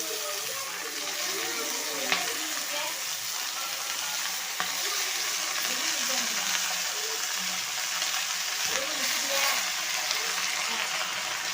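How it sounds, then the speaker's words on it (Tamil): Drumstick leaves and onions fry in a pan for a coconut keerai dish, giving a steady, loud sizzle with stirring and scraping throughout and a voice speaking now and then. "இப்போ கீரையை போட்டுக்கிறோம்."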